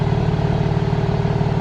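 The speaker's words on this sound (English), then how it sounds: "You can hear the exhaust note." A 2023 BMW M3 Competition xDrive idling as it warms up, its exhaust giving a steady, deep, even rumble up close with no voices.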